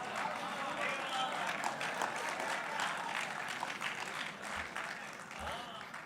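An audience at a Vadodara mushaira, an Urdu poetry gathering, breaks into applause. Dense, sustained clapping runs throughout, with faint voices mixed in.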